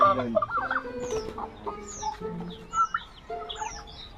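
Several chickens cluck and chirp nearby in short, irregular bursts, with softer bird calls scattered in the background.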